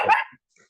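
A dog gives one short, sharp bark close by, followed by near silence and a faint trailing sound.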